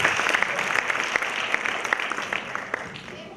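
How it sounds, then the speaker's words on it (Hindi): An audience at an Islamic quiz contest claps for a child, a dense, steady round of applause heard up close and lasting throughout, with no voices over it. "इस बच्चे के लिए जोरदार तालियां"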